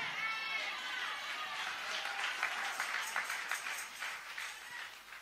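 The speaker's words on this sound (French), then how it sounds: "Your clapping is very bad." A church congregation applauds in a loose, sparse patter that rises and falls over a few seconds, with a murmur of voices mixed through the clapping.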